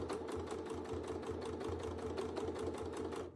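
Sewing machine stitching fabric during free-motion quilting, a fast steady rhythmic needle chatter with regular low thumps, close and continuous for the whole stretch without talk.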